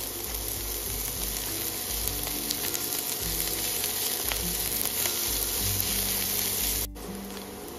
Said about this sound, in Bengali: এবার খুব ভালো করে ভেজে নেবো পেঁয়াজটা নরম হয়ে যাওয়া পর্যন্ত।